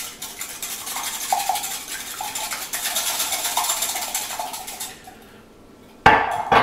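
A whisk beating two eggs in a bowl, a steady close scraping rattle that fades out, followed by a brief clatter at the end.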